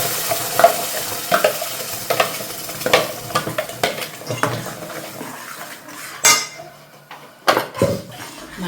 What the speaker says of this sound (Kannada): ಇವಾಗ ಮಸಾಲೆ ಹಾಕ್ತಾ ಇದ್ದೀನಿ.